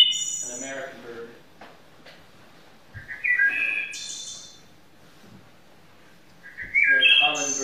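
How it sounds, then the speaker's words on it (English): Wood thrush, an American songbird, singing clear flutelike phrases in bursts separated by short pauses, close and fairly loud against a quiet background. "Here's a wood thrush, an American bird."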